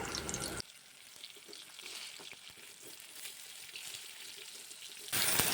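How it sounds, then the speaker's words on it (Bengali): Pieces of pointed gourd (potol) frying in mustard oil in a wok, a steady close sizzle with soft crackles and an occasional stir, louder bursts at the start and end. "এবার কড়াতে দিয়ে দিলাম সর্ষের তেল পটলগুলোকে একটু সুন্দর করে ভেজে তুলে নেবো"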